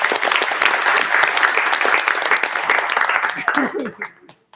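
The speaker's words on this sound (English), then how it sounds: "can we all give Sam a round of applause?" Applause from a group gathered for a monthly meeting fills the room with steady dense clapping, mixed with a few voices and light laughter, before thinning out and stopping near the end.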